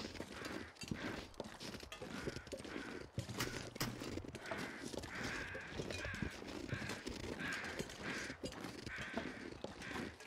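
Crows caw repeatedly in the snowy wilderness of Timberwolf Mountain in the video game The Long Dark, a series of faint, distant calls over quiet crunching footsteps.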